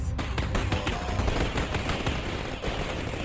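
Machine gun fire in a Wolfenstein shooter, a loud continuous stream of rapid bursts with crisp impacts throughout.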